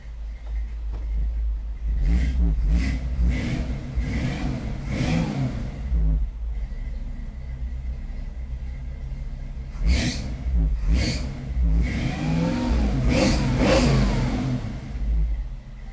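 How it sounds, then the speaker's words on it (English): Healthy 5-liter car engine revving in a garage, several sharp throttle blips rising and falling in bursts with idle between, close and loud, no talk. "That is a healthy sounding 5-liter."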